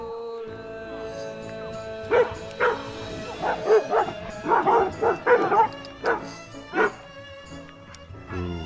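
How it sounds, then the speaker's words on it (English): Dogs near Slater Lake in Arapahoe National Forest bark and yip in a quick, uneven series of close, loud calls over a steady outdoor background. "Dogs are running along."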